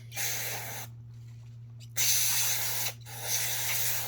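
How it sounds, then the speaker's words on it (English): Carburetor cleaner sprayed onto Cub Cadet Z Force S 48 mower deck parts gives three steady hissing aerosol bursts at close range, each about a second long and separated by short pauses, over a low constant hum. "I'm just going to use my carb cleaner"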